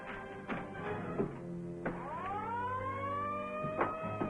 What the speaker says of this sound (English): Yoga, get the alarm